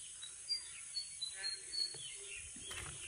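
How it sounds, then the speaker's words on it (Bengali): Frogs croak after a rainstorm under a cloudy sky, sounding as faint, scattered chirping calls at a distance, spaced irregularly over a quiet, hissy background. "অনেক দিন বাদে কিন্তু আমি এই ব্যাঙের ডাক শুনলাম"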